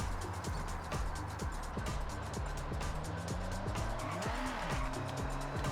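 Car drifting in the Forza Horizon 6 video game: a steady engine roar with rising and falling revs and sweeping pitch glides, tire squeal from sliding, loud and continuous throughout, with faint talk beneath.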